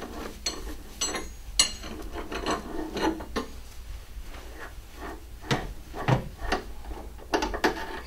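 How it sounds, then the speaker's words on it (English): A wrench loosens the filter nut on a Dynamelt S hot-melt manifold, giving quiet metallic ratcheting clicks and scraping knocks in irregular bursts, close up with no talking. "With a 1-inch wrench or 25mm wrench, you can loosen the filter nut."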